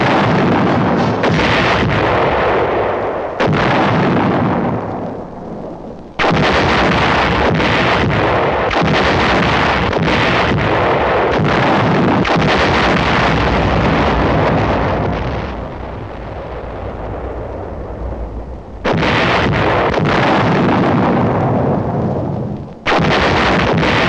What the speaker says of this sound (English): an artillery barrage signaled that the attack had commenced